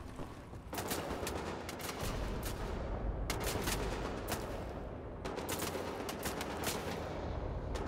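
Rapid automatic gunfire from the video game Wolfenstein: The New Order comes in sustained bursts with a few brief breaks. It sounds dense and fairly quiet, with no speech over it.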